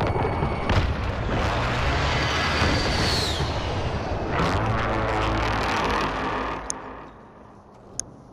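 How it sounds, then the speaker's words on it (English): Grenade blast in the video game Warzone: a loud, broad roaring explosion that rumbles on for several seconds with a second surge midway, then fades, followed by two sharp clicks. "Grenade out!"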